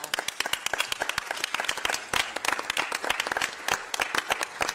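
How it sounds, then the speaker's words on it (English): Audience applause at a city council public forum and business meeting, a steady run of sharp individual claps from a modest crowd, fairly close and continuous throughout. "They deserve a great deal of applause."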